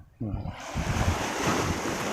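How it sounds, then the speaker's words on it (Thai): Sea waves washing up on a beach shore, a steady broadband rush of surf that swells in after a brief quiet start, close and fairly loud with wind. "มันมีคลื่นด้วย"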